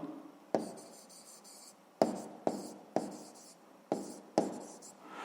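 A pen scratches across paper, close and quiet, while a physics unit is being written down, with crisp taps at the start of each of about six strokes and no talking.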